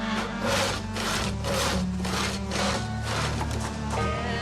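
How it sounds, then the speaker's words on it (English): A log is sawn by hand in the video game Project Zomboid, giving a steady loud back-and-forth rasp of a saw through wood in even strokes with no talk. "Okay, we're gonna saw the other ones."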